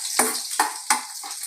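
Garlic frying in a hot pan at the start of chicken adobo, with sharp sizzling bursts flaring about every third of a second over a steady hiss, close and fairly loud, no voices.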